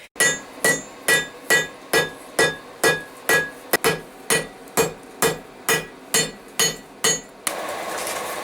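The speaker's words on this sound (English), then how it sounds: "now we're going to move on straight to putting the bevels in" Hammer blows forge bevels into throwing knives, about a dozen and a half evenly spaced ringing strikes on hot steel, close and loud, ending in a brief rush of noise.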